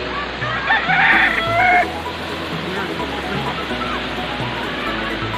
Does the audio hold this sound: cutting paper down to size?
no